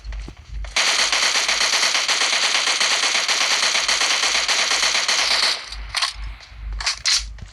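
A continuous burst of automatic M16 fire in BGMI/PUBG lasts about five seconds, loud and dense. A few shorter bursts follow after a brief pause.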